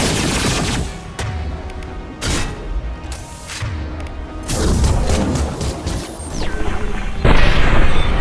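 Loud gunfire and heavy smashing impacts from a Soldier's Impact Shot power in Mass Effect 2, a dense chaotic battle with repeated crashes and bursts of shots, ending in a bigger booming hit.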